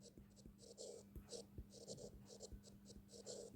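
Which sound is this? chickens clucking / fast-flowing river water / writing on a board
writing on a board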